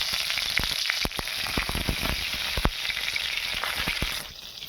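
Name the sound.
green chilies frying in oil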